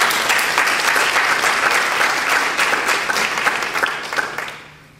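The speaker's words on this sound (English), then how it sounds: "I think that deserves a round of applause." An audience at a minority health summit gives a sustained round of applause, dense clapping that holds steady for several seconds before tapering off at the end.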